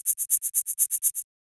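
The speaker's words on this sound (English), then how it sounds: "the first thing that we're introduced to in my remix is the shakers" Shaker percussion from a remix beat: ten crisp, bright shakes in a steady quick rhythm, dry and close, that then stop abruptly.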